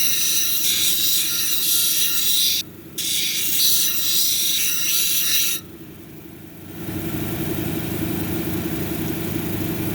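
A banded amethyst cabochon being ground on a lapidary wheel, with a loud hissing grind that breaks off briefly and then stops, after which a steadier low machine whir carries on.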